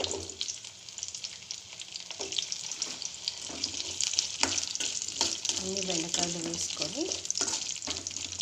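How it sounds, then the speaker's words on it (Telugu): Okra frying in a couple of spoons of oil in a deep pan, a steady close sizzle with occasional stirring clatter and scraping throughout, no talking. "ఒక రెండు స్పూన్లు నూనె వేసుకొని బెండకాయలు వేసి వేయించాలన్నమాట"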